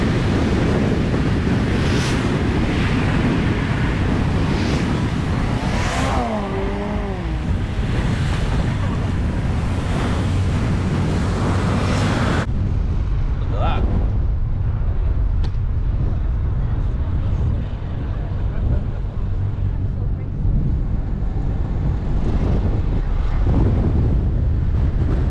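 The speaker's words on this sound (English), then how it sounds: "It's a little bit windy, so I've got you hidden behind a rock, so hopefully not too much wind noise" Strong, constant wind buffets the microphone on a rocky beach, with surf washing steadily underneath, loud and unbroken throughout, and a voice briefly audible in the first half.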